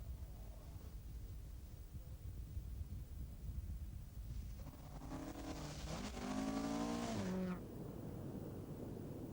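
Opel Ascona rally car on a cold winter rally stage, engine note swelling from a distant rumble to a nearer, louder rasping pass with a rising then falling pitch, over steady wind and background noise.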